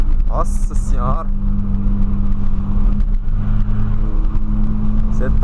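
Volkswagen Gol engine revving hard in a loud, sustained drone that holds steady for several seconds, with brief voices near the start.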